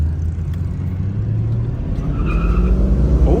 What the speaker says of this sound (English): Oh, got a little tire spin.